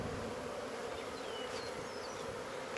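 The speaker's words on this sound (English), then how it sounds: "It's chaos in the bee yard when a mating swarm comes back." A returning honeybee mating swarm with a Carnica queen fills the bee yard with a dense, steady buzzing drone. It is loud and continuous, with individual bees whining past up close.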